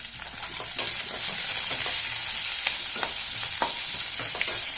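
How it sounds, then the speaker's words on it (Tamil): Onions sauté in a pan for paneer butter masala, a loud, close, continuous sizzle with frequent small crackles and pops, and no voices. "வெங்காயம் நல்லா வதங்கட்டும்"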